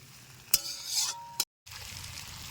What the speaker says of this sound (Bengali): আর এটাকে একটু পরপর নাড়তে থাকতে হবে, কারণ কাজু বাদাম আছে